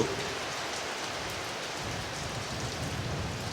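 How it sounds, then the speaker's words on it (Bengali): Heavy rain falls steadily as an ambient sound effect in a spooken ghost story, a dense, even hiss of drops at a constant level with no voices. "বৃষ্টি থামার কোনো নামগন্ধও নেই।"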